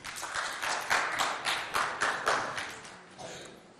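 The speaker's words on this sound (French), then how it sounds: "On l'applaudit bien fort, Trinité." A school audience applauds a student at a Chadian debate event, a dense burst of clapping with rhythmic swells that fades toward the end.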